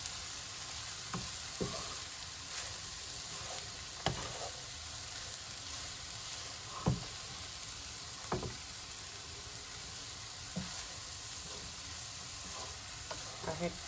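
Cooled rice for vegetable fried rice is stirred in an open dish, with soft scattered scrapes and taps of a spoon over a steady background hiss, faint and close.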